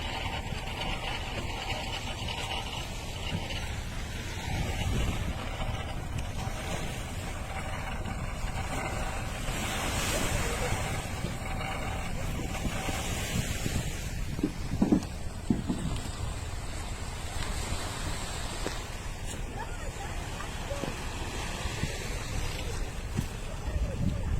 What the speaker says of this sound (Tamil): இப்போ அந்த தண்ணியிலோட போட்டை வந்து இப்போ இழுக்க போகிறாங்க கரைக்கு